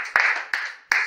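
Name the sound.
applause for Janie at a baptism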